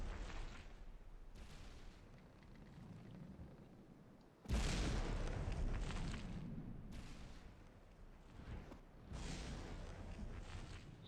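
Torpedo explosions striking the HMHS Britannic in Minecraft, a series of deep booming blasts, one especially loud and heavy midway, each trailing off into a rumbling roar.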